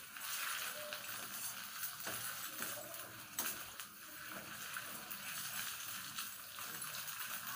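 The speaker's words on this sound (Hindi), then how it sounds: "हम इसको धीमी आंच में धीरे धीरे फ्राई करेंगे" Soybean chunks fry slowly over a low flame, a steady soft sizzle with faint crackles and occasional utensil taps running throughout, fairly close and continuous with no talk.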